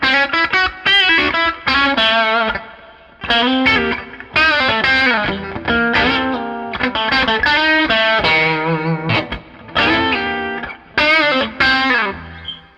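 An electric guitar played through an MP Supreme with some gain rings out in bright, lightly distorted phrases, with chords and single notes played close and loud, separated by short pauses between passages.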